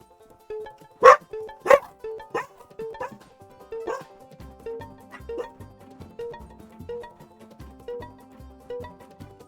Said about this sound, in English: My dogs like to camp out at the front of the house, listen to the traffic and then complain about it